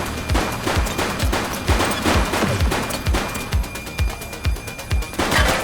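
Rapid bursts of gunfire in the police game The Precinct, a dozen or so sharp shots in uneven volleys over about six seconds, loud and close with an echoing tail.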